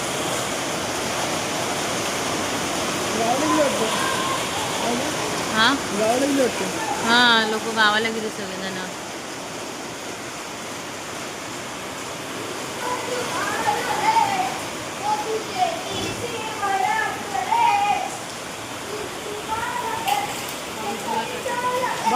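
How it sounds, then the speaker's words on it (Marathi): Heavy rain with strong wind in a village storm, a constant broad hiss of downpour running throughout, with several people talking over it at intervals. "एवढा पाऊस पडतो"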